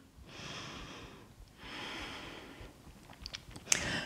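Slow, deep breathing during a yoga posture: two long, soft airy breaths drawn in and out, close and quiet, followed by small rustles and a faint click.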